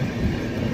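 A passenger train running on rails past Gudur at sunrise, a loud close low rumble of wheels and carriage throughout the brief moment.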